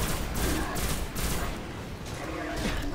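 Gunfire in the video game Destiny, a dense stream of rapid shots and thuds that fills the whole moment, loud and close, with no talking over it.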